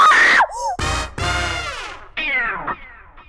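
A woman screams in several loud, high-pitched bursts broken by short gaps, in a comic Hindi TV scene where she steps onto a weighing machine.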